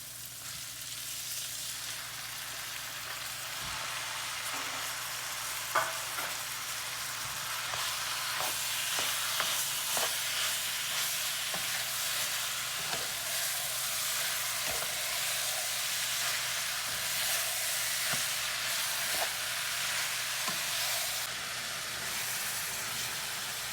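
Ground meat sizzling and browning in a pan, a loud, steady frying hiss with occasional clicks and scrapes of stirring, continuous and close with no talking.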